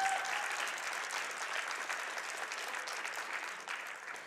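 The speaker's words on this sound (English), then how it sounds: "can we get a cheer for Mike's grandma on that?" A live crowd at the AGDQ 2019 speedrunning charity event claps and cheers in a dense, steady wash of applause that carries through the whole stretch, with little talk over it.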